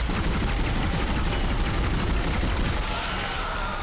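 Sustained, dense gunfire in the survival-horror video game Dead Space, a loud continuous barrage of rapid shots with no talking over it.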